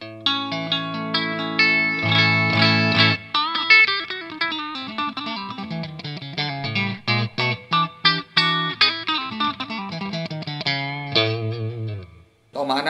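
Distorted electric guitar through Tom Holmes 455/450 humbucking pickups wired out of phase, a thin, nasal, hollow tone, playing chords then quick lead lines, with effects and echo.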